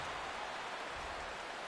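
Steady rain comes down at a baseball game, a continuous even hiss of falling drops with no pauses or talk.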